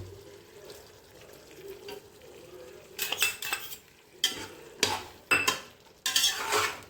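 A spoon stirs 100 ml of yogurt into a chicken biryani mixture, with quiet scraping at first, then louder bursts of clattering and scraping against the vessel in uneven strokes.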